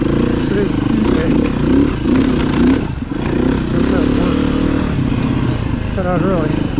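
A heavy KTM 390 motorcycle on a gentleman's ride near Foxboro, its four-stroke engine droning steadily and close throughout, with wind rush and a brief dip midway and a voice talking over it.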